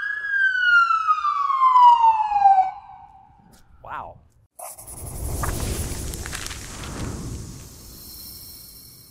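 A Tesla Model Y police car sounds its siren in a loud descending wail for a few seconds. The siren then cuts off, and a short blip and a stretch of broadband noise follow, with voices likely mixed in.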